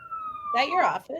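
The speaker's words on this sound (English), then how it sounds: "I apologize for the sirens." Police siren wailing outside an office on Broadway in Kansas City, a steady tone sounding behind a person speaking on a call.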